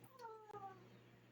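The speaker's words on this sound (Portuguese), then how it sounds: "Estão ouvindo o barulho da minha gata querendo atenção?" A pet cat, a female, meows for attention indoors, giving a short drawn-out cry of about one second with a soft second note. It is close and moderately loud, and a faint voice may sit underneath.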